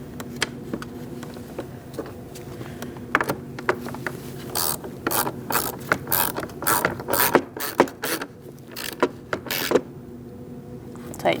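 Hand ratchet tightening a nut on an interior door handle assembly of a 2008-2014 Mercedes-Benz C300, a run of quick close clicking bursts, preceded by quieter handling noises.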